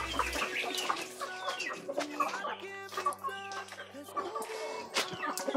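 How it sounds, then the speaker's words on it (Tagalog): Domestic chickens, including fighting-cock stock and their chicks, clucking steadily around a home yard, with several birds overlapping close by and occasional faint talk in the background. "Marami tayong manok dito."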